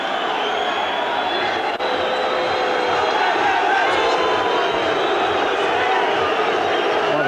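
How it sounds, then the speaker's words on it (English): Everton fans booing referee Neil Midgley in a stadium during a 1989 Everton versus Liverpool match, a sustained wall of crowd noise that holds steady throughout, with a brief sharp sound near the start. "the crowd around me, the Evertonians, are booing referee Neil Midgley"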